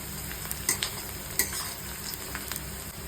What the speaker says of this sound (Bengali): পেঁয়াজটা ভাজা হয়ে গেছে, এবার আমি পেস্ট করা মশলাটা দিয়ে দেব।